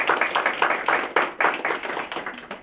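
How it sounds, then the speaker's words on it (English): Clapping at a school winter concert for a young performer, a small audience applauding in uneven bursts that swell and fade, fairly close and without talk. "Give her a round of applause."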